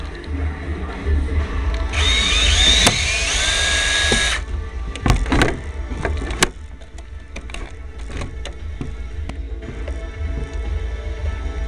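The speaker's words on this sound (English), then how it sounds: "I got the drill out right here." A handheld power drill runs in a steady whine for about two seconds near a Slash 4x4 remote-control truck, followed by sharp clicks and knocks of handling against a low background hum.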